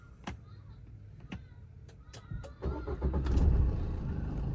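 A car engine turns over on a self-start button held down, a few clicks and a brief starter whir building into a rumbling idle that settles steady and close, alone without talk.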